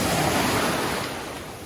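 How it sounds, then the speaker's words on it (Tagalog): Sea waves rolling onto White Beach in Dasol, Pangasinan, a steady broadband wash of choppy surf, loud and close, easing slightly toward the end with no voices. "Medyo maalon ngayon, pero compared kahapon,"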